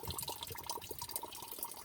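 Spring water trickles slowly into a container on a mountain meadow in the Carpathians, a steady soft running and dripping sound, faint and close, with no talk.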